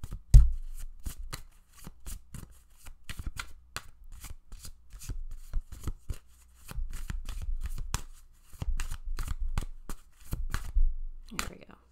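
A deck of tarot cards is shuffled by hand in repeated close riffling bursts and soft flutters over about twelve seconds, with brief pauses between rounds and no talking.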